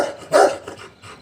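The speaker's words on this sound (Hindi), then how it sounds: "ऊपर टाइसन इतना भौंक रहा है ना, कुछ बोलने नहीं दे रहा" A dog indoors upstairs barks in a short burst, one loud bark followed by fainter yips and rustling, with no talk over it.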